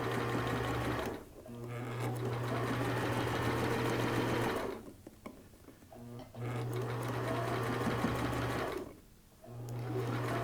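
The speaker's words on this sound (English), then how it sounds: "So I'm using that presser foot as a guide again, and we're just going to sew right up to that 1 inch opening" Sewing machine stitching a turban seam, a fast steady whir in long runs broken by short pauses, close and fairly loud.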